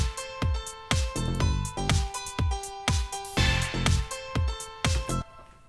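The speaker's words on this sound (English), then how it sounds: "we've got another patch from Lethal called Dance Hit," A Dance Hit synth patch from the Lethal plugin fills out an upbeat JRPG-style village theme, with punchy stabbed chords landing on a regular beat over drums, loud and dense, with no voices.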